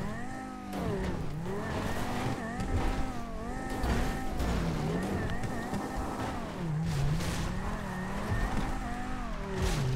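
A Banshee sports car races through Grand Theft Auto, its engine note rising and falling continuously through gear shifts, with tires squealing during sharp turns and no one talking.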